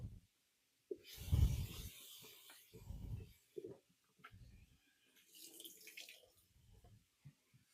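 Strawberries rinsed under a running kitchen tap, with close, uneven splashing and sloshing of water in irregular bursts against a quiet background.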